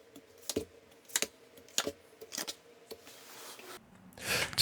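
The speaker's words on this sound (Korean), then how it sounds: "카드 뽑아볼게요" Tarot cards drawn from a deck and handled, making a series of crisp, close slaps and flicks at an irregular rhythm, ending in a brief rustling burst, with no talk.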